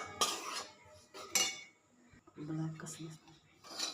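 Roasted semolina for upma is scraped from a pan onto a plate, with a few sharp metal spoon scrapes and clinks spaced apart, while someone speaks briefly between them.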